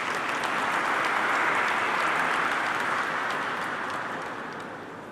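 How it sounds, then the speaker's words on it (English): Audience applause at a securities market symposium, a dense, steady wash of many hands clapping that holds strong for several seconds before tapering off near the end. "Can we have a round of applause, please?"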